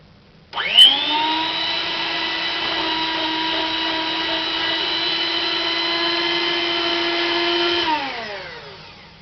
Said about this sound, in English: you can switch your blender on onto the lowest speed possible